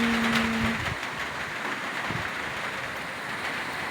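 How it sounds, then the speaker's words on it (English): Rain falls outside near a neighbor's house as Typhoon Uwan approaches, a steady, even hiss throughout with a brief low hum at the start. "And it's raining."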